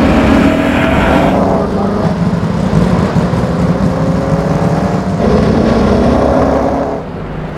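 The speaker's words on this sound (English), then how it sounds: "Somewhere that's never echoed to the sound of its thunderous 3-litre straight-eight engine" The thunderous 3-litre straight-eight engine of a Mercedes-Benz 300 SLR roars loud and close, holding a sustained, rasping drone with shifting pitch before easing slightly at the end.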